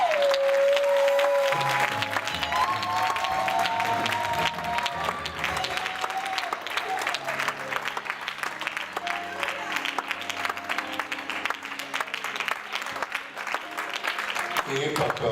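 A church congregation at a prayer service applauds and cheers for the Lord, a sustained loud wash of clapping and crowd voices over music with a singer's voice riding on top.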